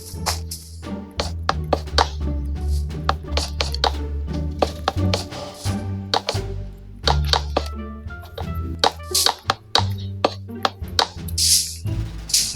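Blocks are placed to build a ceiling in Minecraft, giving a series of short, hollow thunks and clicks at an uneven pace over soft background music.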